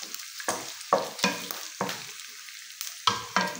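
Garlic and onion being sautéed for pork pakbet, with a series of sharp spatula scrapes against the pan, each followed by a burst of sizzle, spaced irregularly across a few seconds and heard up close.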